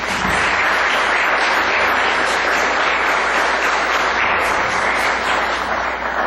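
Sustained applause from a large church congregation, steady and loud throughout, with no breaks.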